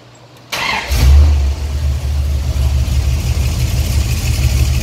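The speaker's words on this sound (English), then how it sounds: "Let's start the car." A Chrysler Mopar car engine cranks and fires after a moment of quiet, surges in a brief rev, then settles into a steady, loud idle close by.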